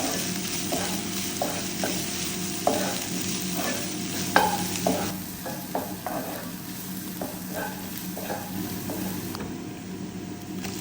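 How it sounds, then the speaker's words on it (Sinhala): Onions with crushed ginger and garlic frying in oil: a steady close sizzle throughout, broken by repeated soft scraping and clinking of a spoon stirring the pan at an irregular rhythm. "ලුණු ටිකක් තෙල් එකේ බැදෙන්න දෙනවා. ඊට පස්සේ මම මේකට අර තලාගත්ත ඉඟුරු සුදුරුණු ටික දාගන්නවා."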